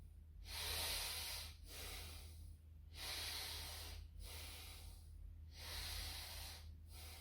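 Deep, slow breaths during a seated twisting stretch, about four long airy inhale-exhale cycles with brief pauses between, steady and close against a low constant hum, no talking.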